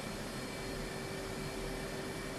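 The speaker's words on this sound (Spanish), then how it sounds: "Ven cómo se escucha que está acelerando y el avión empieza a moverse" An F/A-18C jet engine spools up in a flight simulator game, a dense, steady roar with a high whine running through it. The sound is continuous and loud, with no talk.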